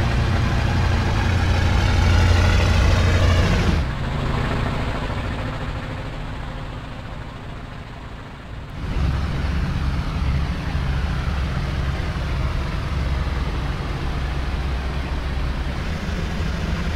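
A heavy three-engine bomber roars through its takeoff, a loud continuous low droning engine noise that dips in the middle and swells again, steady and unbroken, with no voices.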